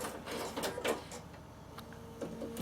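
A domestic sewing machine finishes a satin-stitch pattern and the thread is cut, giving short mechanical whirs and clicks at close range, with a few brief snips and taps and no talking.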